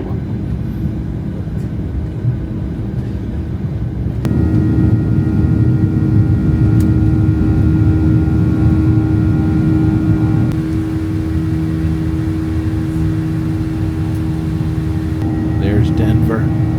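Steady low engine drone inside an airplane cabin during a flight to Denver, a continuous broadband hum with tonal layers that grows louder a few seconds in, with faint talk mixed in.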